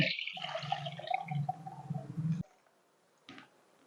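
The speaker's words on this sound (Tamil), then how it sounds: "இந்த புளியை கரைச்சு நான் இந்த சட்டியில ஊத்துறேன்" Tamarind water splashes and pours into a cooking pot for thippili leaf rasam, a close liquid gush lasting about two seconds, followed by a brief clink.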